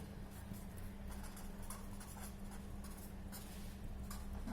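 Pen scratching across a board or paper while writing out a chemistry reaction, steady close strokes continuing throughout with a constant low hum underneath and no talk.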